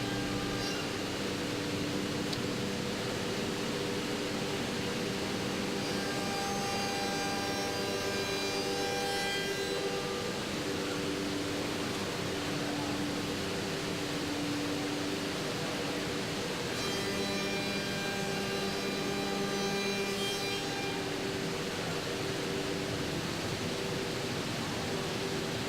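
A 5-axis CNC spindle copes three rails while dust collection runs, giving a steady loud broadband roar with tonal machine whine that swells and fades in long passes.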